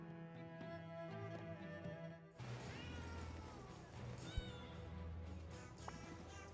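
Cats meow in the Potionomics video game, with several short mewing cries set against game music and effects that shift partway through.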